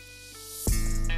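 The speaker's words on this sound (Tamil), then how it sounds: "எல்லா இடத்துலையும் படுற மாதிரி நல்லா ஸ்ப்ரே பண்ணிக்கோங்க." A short burst of spray from a bottle of cleaning solution hits kitchen cabinets, a sudden loud hiss after a quiet moment, lasting about half a second.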